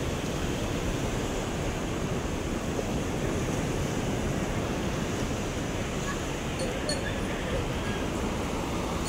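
Steady broadband wash of river waves, continuous and fairly distant, with wind noise and no clear breaks.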